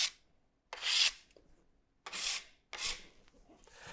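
Scraping the finish off a wooden cabinet panel: three long rasping strokes, close and fairly loud, with short quiet gaps between them and no talking.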